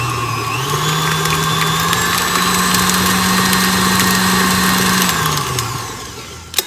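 An electric mixer whirs steadily as it creams a stick of butter with half a cup of shortening for buttercream. The motor spins up at the start, holds a loud, even hum, then winds down near the end.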